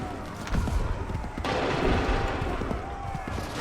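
Musket volley gunfire in Assassin's Creed 3 Remastered on PS5: a burst of massed shots cracks out near the half-second mark, a second heavier volley follows around 1.4 seconds and sustains loudly, with shouted commands mixed in.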